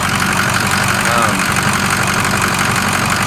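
A truck engine idles after a cold start, a loud, steady, slightly knocking rumble close by with light vibration, as someone talks over it.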